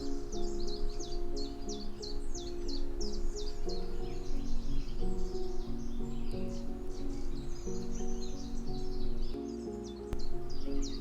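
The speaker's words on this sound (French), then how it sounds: "le chant des oiseaux" Many birds chirp and trill continuously over a steady low hum of background sound, the song dense and unbroken throughout.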